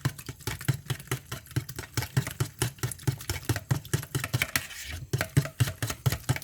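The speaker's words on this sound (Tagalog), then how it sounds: "so we are just going to mix it well." Wet batter for choco butternut munchkins, with vanilla added, being mixed in a bowl: a quick, steady series of rhythmic scraping and tapping strokes from a utensil, close and moderately loud, with no talk over it.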